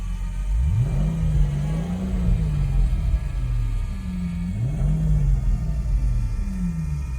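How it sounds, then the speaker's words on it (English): A 2003 Mercedes SL500 with its V8 engine revved twice while parked: the idle rumble swells and falls back in two separate blips, close and steady, with no talking. "I'm gonna give it a little rev."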